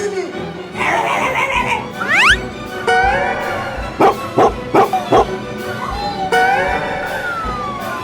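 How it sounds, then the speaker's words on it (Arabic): Barking and yipping from a dog at a family home, several sharp barks clustered mid-clip with whimpering tones, close and loud, mixed with household noise. "راه سوسو عندها كلب"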